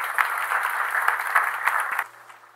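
Audience applause after a Swedish research-funding talk: steady, dense clapping from a crowd in a hall, loud and even for about two seconds before quickly tapering off.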